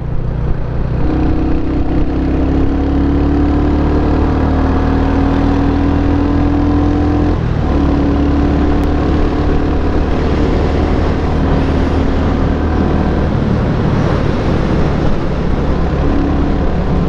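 A Royal Enfield Hunter 350 motorcycle engine runs steadily for a long stretch, a loud, even droning hum with a constant low rumble and slight pitch shifts, no voices over it.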